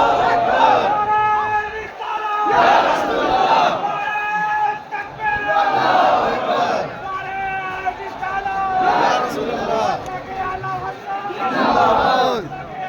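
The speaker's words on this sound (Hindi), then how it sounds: "वाकई यार इतनी भीड़ है।" A large crowd gathers as a religious gathering ends, with a loud, continuous hubbub of many voices, surging and shouting at intervals close by.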